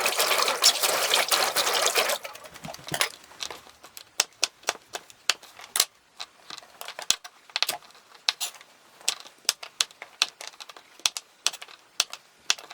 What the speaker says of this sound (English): I'm going to wash all the produce